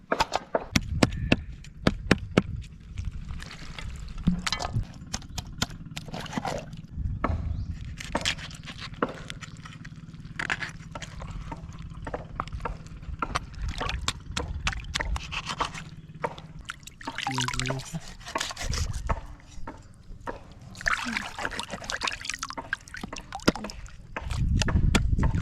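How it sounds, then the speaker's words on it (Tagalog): Tuna being rinsed with water: scattered splashes, drips and trickles with clattering handling noises, close by, continuing irregularly over a low background hum. "banlawan mo ng tubig"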